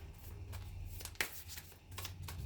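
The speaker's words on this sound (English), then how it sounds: "y'all see how many times I shuffled these damn cards" Tarot cards are shuffled by hand in a quiet room, several soft papery riffles and slaps spaced across a couple of seconds, with one sharper snap near the middle.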